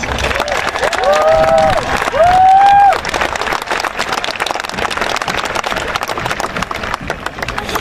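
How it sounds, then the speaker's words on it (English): Applause from seniors and parents at a Homestead High School graduation ceremony, loud, dense clapping and cheering throughout, with a couple of rising whistles early on. "Seniors and parents, please help me in recognizing them with a big round of applause."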